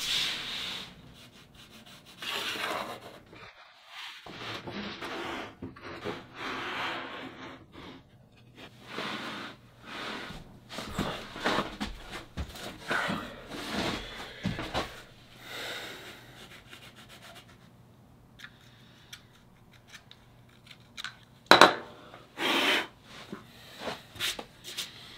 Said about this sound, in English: First, I'll draw on the shape of the hockey stick.